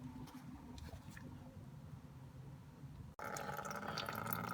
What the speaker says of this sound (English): I still had antifreeze in my block, so I'll have to wait for that to drain out